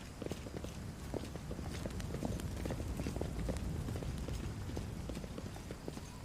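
Horse hooves clip-clopping steadily in the fantasy role-playing game Pathfinder: Wrath of the Righteous, a continuous mid-distance trot of dense, overlapping hoof beats with no talk.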